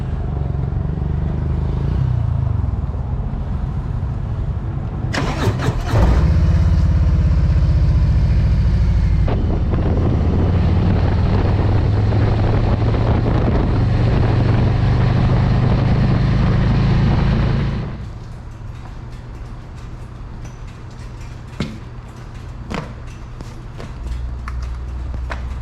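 Motorcycle riding heard from a helmet-level action camera, the engine droning loudly under heavy wind rush with rising and falling revs and gear changes, then settling into a lower, quieter idle-like rumble near the end.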